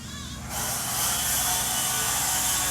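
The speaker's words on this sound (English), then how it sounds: "Excuse the background noise, they are doing some roofing next door." Steady broadband hiss and rumble of roofing work next door, loud and continuous, rising after a brief quieter start.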